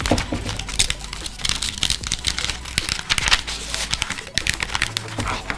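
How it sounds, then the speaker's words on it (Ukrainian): Paper being rolled tightly into a tube by hand, heard as a dense, continuous run of close crinkling, rustling and crackling that stays loud and busy throughout. "Сначала трубку надо сделать. Например, вот так вот скрутить."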